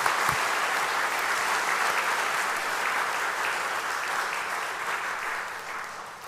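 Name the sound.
congregation applauding in church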